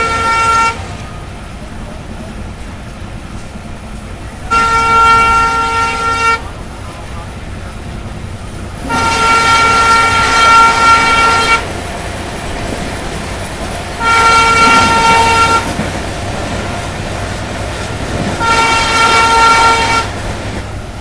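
The Rajasthan Sampark Kranti Express departs Alwar with a loud two-tone horn sounding four times in long blasts, each lasting a couple of seconds, over the rolling rumble of the train.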